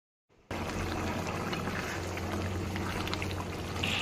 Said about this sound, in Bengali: তো এবার জল দিয়ে দেবো, দিয়ে এবার একটু ঢেকে দেবো আলুটা সেদ্ধ হওয়ার জন্যে।